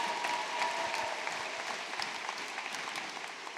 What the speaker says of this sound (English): One more time, just a round of applause for all of the people in your lives.